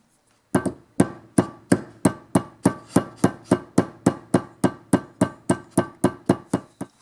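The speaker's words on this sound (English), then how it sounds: "is just flatten this out just a touch with a hammer so that I get a good press fit on there" A hammer taps a small pull-starter part about twenty times to flatten it slightly for a press fit, each blow sharp and close, in a steady, evenly spaced rhythm.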